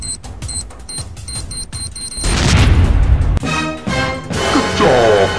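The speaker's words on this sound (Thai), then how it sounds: "แย่แล้วหุ่นยนต์โกโกวาเราระเบิดไปแล้ว" An exploding robot in a Skibidi Toilet animation with a drill-headed toilet character: a sudden loud, broad blast roars up after rapid clicking electronic beeps, then breaks into rattling, crashing debris.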